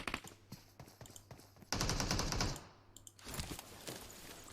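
Automatic gunfire in the PUBG Mobile video game, a series of rapid bursts of shots, with a loud sustained volley in the middle and further bursts after a brief pause.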